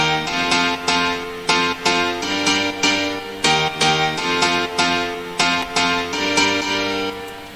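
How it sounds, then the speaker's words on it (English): Simple piano chord drop built from two layered pianos in an electronic track: bright, sustained chords struck in a steady repeating rhythm, loud and alone without any voice. "It's a really simple drop, just based around these piano chords, which sound like this."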